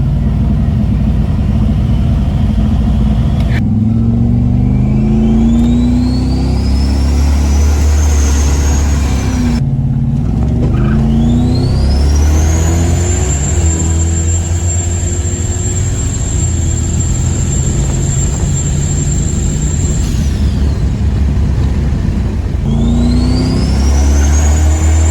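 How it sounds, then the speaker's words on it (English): Turbo on a sleeper Dodge Diplomat with a two-step whistles as it spools up, a rising whine sweeping upward over a deep engine roar through repeated runs, holding a steady high pitch at length before dropping off between pulls. "You can hear the turbo spooling up."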